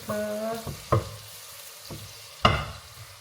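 Steak with herbs searing in a hot pan gives a steady, moderate sizzle, broken by a few sharp clanks and knocks of utensils against the pan.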